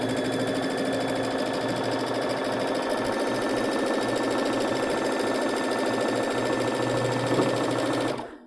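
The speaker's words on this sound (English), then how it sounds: "I'm going to just sew diagonally across these squares and stitch it on" A Baby Lock sewing machine fitted with a chenille foot stitches diagonally across fabric squares, a steady, close, rapid mechanical whir and needle chatter that runs without pause and cuts off at the end.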